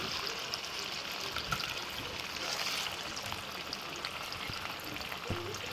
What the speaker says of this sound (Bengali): আমি পনিরখিনি ভাজি লওঁ